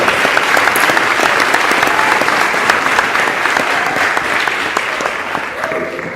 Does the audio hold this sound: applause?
yes